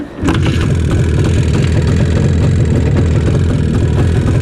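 An IZh Jupiter 4 motorcycle engine catches and runs loud and close in winter, a steady rough mid-pitched drone right after starting, with no talk over it.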